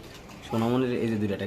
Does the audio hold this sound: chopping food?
no